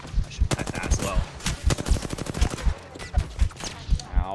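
Rapid automatic gunfire in Apex Legends Season 10 on PC, loud bursts of closely spaced shots rattling through the whole stretch with short gaps between volleys.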